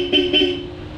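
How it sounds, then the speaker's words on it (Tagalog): Bosch Europa loud horn fitted to a Honda ADV160 scooter, two short bright honks in quick succession, then a fading ring, loud and close. "kung gusto mo ng loud horn, pindutin mo lang, nakabaon na yung button niya, automatic activated na yung loud horn"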